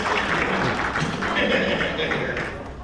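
A comic convention panel audience claps in a round of applause, a dense, steady wash of clapping that fills the room at an even level throughout, with voices mixed in underneath.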